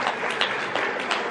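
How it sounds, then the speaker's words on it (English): Audience applause at an elementary school evening concert for grades 3 to 5, a dense steady wash of many hands clapping that fills the whole moment at moderate volume. "Let's give her a round of applause."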